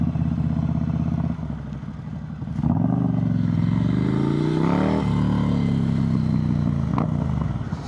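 Honda Africa Twin motorcycle engine running loud and close, a rough steady idle that climbs into a rising rev and then settles back to a sustained throaty drone.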